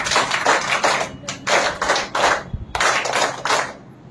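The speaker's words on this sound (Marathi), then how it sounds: "आपण त्यांचे 3 टाळ्या म्हणून स्वागत करू" An audience at a gathering of gratitude for Bhante Sangharakshita claps in welcome, giving about three separate rounds of brisk hand-clapping. Each burst lasts roughly a second, with short gaps between, fairly close and clear.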